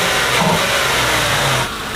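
Ford Crown Victoria with a 4.6 modular V8 running smoothly, a steady even engine hum close by with no talk.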